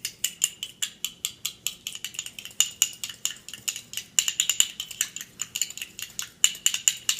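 A utensil beats pasta dough ingredients in a bowl with rapid, steady metallic clinks and taps, close and continuous throughout with no talking.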